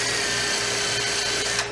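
A power drill bores pilot holes for screws into pine while wheels are fitted to a chest of drawers, a steady close whirring drone running unbroken and fairly loud, then easing off at the very end.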